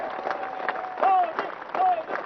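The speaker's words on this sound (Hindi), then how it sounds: "शांति के लिए ताली बजाइए।" Clapping from a large audience at a peace agreement ceremony in Kokrajhar, Assam, a dense, steady wash of hands with a few whistle-like tones rising over it, fairly loud and continuous throughout.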